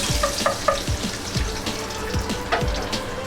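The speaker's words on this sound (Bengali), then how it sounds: "বাটার গলে গেছে, এবারে ফাঁকা ফাঁকা করে 2 পিস চিকেন প্যানে দিয়ে দিচ্ছি" Two pieces of chicken sizzle in melted butter in a pan over high heat, a steady close frying hiss with soft bubbling pops and low thumps.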